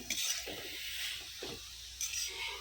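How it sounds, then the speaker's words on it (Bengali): Spices fried and stirred in a pan for a home-cooked meal: a quiet, steady sizzle broken by a few soft scraping stirs, faint and close, with no voices. "তারপরেও একটু ভেজে নিতে হবে"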